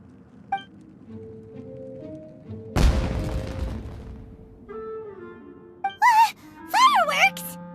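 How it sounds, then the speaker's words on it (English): A single deep boom of a fireworks explosion in the video game Genshin Impact, a loud broadband burst midway that fades out, framed by short character vocal sounds and game effects. "It sounded like fireworks."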